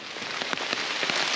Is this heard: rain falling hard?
yes